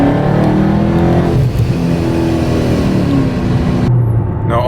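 A supercharged Dodge Scat Pack accelerates hard, its engine roaring loud and close in a continuous rising rev that cuts off abruptly near the end.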